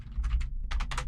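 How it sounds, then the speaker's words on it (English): Close keystrokes on a computer keyboard come in two quick bursts of about three clicks each, separated by a short pause. "Let me just type it."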